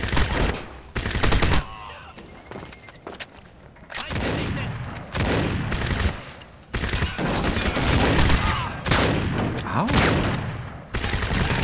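Rapid bursts of gunfire and heavy blasts in the video game Crysis crackle loudly in irregular volleys, with a brief voice exclaiming once in German.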